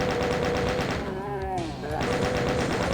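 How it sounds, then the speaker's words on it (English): Rapid automatic gunfire from the video game Doom, map Waste Abandonment, sniping demons: a dense, steady stream of loud shots that pauses briefly midway while a voice speaks, then resumes. "we can snipe off 3 chain gunners and 2 imps"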